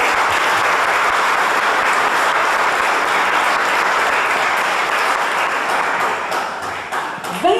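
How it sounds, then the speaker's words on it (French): Audience applause at an anniversary celebration for a cultural centre, a steady, full wash of clapping from a large crowd that thins out toward the end. "Je pense que ça mérite une main d'applaudissement."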